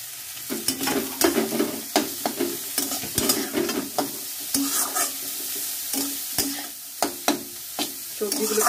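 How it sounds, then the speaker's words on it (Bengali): Cabbage, carrot, beans and green chilli sizzle in a pan for chowmein while a spatula stirs and scrapes in a steady irregular rhythm, close and moderately loud. "সবজিগুলোকে ভালো করে ভেজে নেব।"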